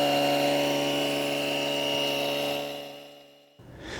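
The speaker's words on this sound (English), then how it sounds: "The compressor is now finished, and guess what? It only took 3 minutes and 10 seconds to fill that 16-inch tyre" An ETENWOLF Vortex S6 cordless air compressor, set to car mode at 32 psi, hums loudly and steadily while inflating a 16-inch car tyre, then winds down and stops near the end.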